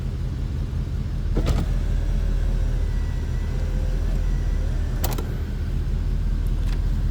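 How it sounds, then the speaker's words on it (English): A faint electric motor whine of the power sunroof sliding open inside a 1984 Oldsmobile Toronado, with a few sharp clicks and a steady background rumble. "this power sunroof I mentioned earlier. Let's check this out"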